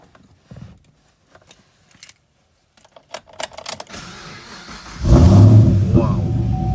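A 2012 Chevrolet Camaro 2SS RS with a 454 hp V8 is started after some clicks and door sounds, then fires up with a deep, loud rumble and revs close by.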